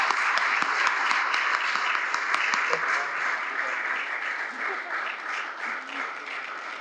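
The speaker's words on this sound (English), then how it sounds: "But I do want to also give them a round of applause again." An audience at a district community meeting applauds, a steady dense clapping that holds for several seconds and eases slightly toward the end.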